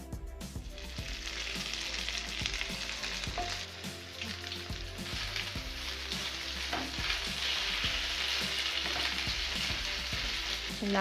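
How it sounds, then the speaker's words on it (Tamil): Chicken kebab fries in a pan with a dense, continuous sizzle close by, punctuated by repeated scraping and clinking as the pieces are stirred, steady and fairly loud throughout. "கொஞ்சம் நல்லா ஃப்ரை ஆகட்டும்."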